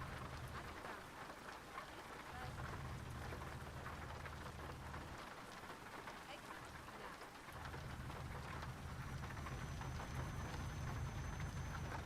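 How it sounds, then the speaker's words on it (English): Heavy rain beats down in the truck driving game Euro Truck Simulator 2, a steady hiss of drops over a low engine drone that drops out briefly and returns, with a faint thunder-like rumble and no talk. "Pissing down rain."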